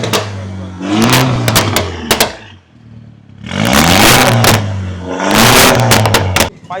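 A luxury car fitted with an aftermarket Bolda exhaust is revved hard in two loud bursts, with crackling, sharp pops and a deep rising roar in each, separated by a brief low idle.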